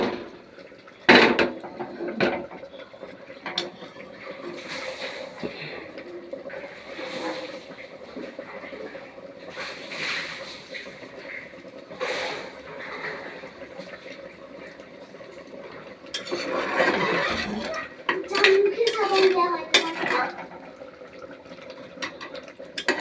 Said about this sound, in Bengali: কষিয়ে কষিয়ে এটাকে ভালো করে নেড়ে নেবো।